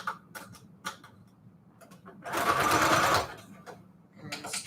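A sewing machine runs a burst of zigzag stitching, sewing fabric onto manila tags, loud and steady for about a second amid softer clicks and handling sounds before and after.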